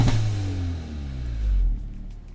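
Hyundai Elantra N with a GFB Deceptor Pro II blow-off valve, heard from inside the cabin under throttle: a loud, steady engine drone falls in pitch, then gives way to a brief release as the note drops away near the end.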